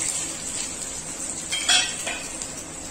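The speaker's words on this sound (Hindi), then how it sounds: "हम दो चम्मच देखा ले हैं सरसों के तेल। एम डाल देबो हम लहसुन ला" Garlic frying in two spoons of hot mustard oil for a Chhattisgarhi karmata bhaji recipe, a soft steady sizzle with metal spoon clinks and scraping against the pan, fairly quiet and close, no talking.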